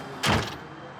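A single rear-hinged door on a second-generation Dodge Ram crew cab truck thuds open with a short broadband rush, then fades into steady low background noise.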